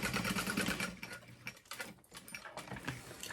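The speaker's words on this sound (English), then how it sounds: "This is my first time sewing it this way." A sewing machine stitches a large Valora handbag in a steady mechanical whir, with brief pauses and restarts as the fabric feeds through, close up and alone.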